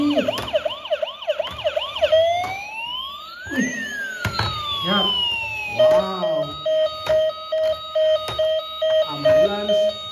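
A battery-powered toy ambulance blares a warbling electronic siren, shifting from a fast wail into a steady repeating tone, loud and close, while a person exclaims briefly over it.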